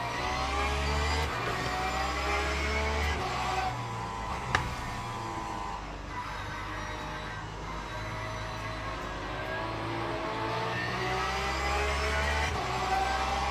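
A GT3 race car engine in the Le Mans Ultimate sim racing game, a loud continuous drone with repeated rising revs and gear shifts, heard from onboard throughout a sprint championship race, no talk.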